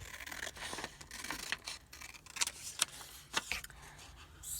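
Scissors snip through paper scraps cut from a mini page for card clusters, with a few sharp, close cuts and faint rustling of paper between them, quiet overall.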